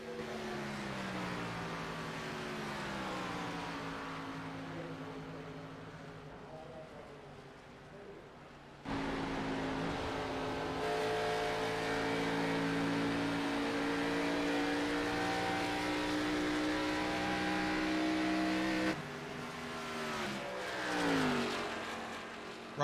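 Grand National race cars circling Kentucky Raceway in a racing video game, several engines whining and shifting pitch as cars pass, with a broadcast-style commentator talking over the moderate, continuous engine drone.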